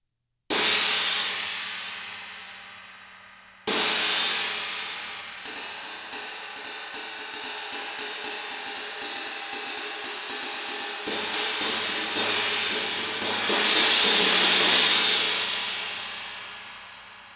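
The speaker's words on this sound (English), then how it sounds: "This is my trash crash, and you can see that it's hammered extra around the edge" A hammered trash crash cymbal, extra-hammered around the edge, gets two loud separate crashes that ring and decay, then a long run of rapid repeated strikes building into a shimmering wash that fades out alone.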